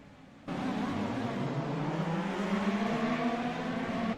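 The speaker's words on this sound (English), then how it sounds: "Revs are up, we're going green." Pro Mazda race cars rev up at a green flag start at Silverstone, a loud sustained engine roar that kicks in abruptly and climbs steadily in pitch as the field accelerates.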